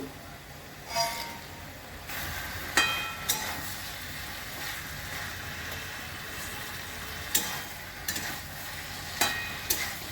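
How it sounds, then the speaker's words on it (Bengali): Spinach curry with fried lentil dumplings is stirred in a pan over a low, steady sizzle, with several soft scraping strokes of the spoon spaced a few seconds apart. "এবার পালং শাকের সঙ্গে তরকারিটা ভালো করে মিশিয়ে দিই"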